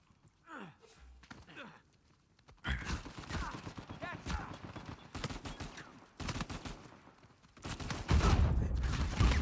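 Video game gunfire, with rapid bursts and single shots crackling loudly across most of the stretch, ending in a dense sustained volley; faint talk sits underneath between the bursts.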